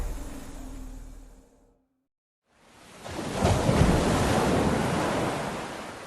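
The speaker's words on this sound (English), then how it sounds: "A wave comes at you, poised and powerful, doing its all to knock you off your feet." Ocean waves break and surge in a loud, roaring wash with heavy wind noise on the microphone, swelling after a brief fade to silence and rolling on steadily.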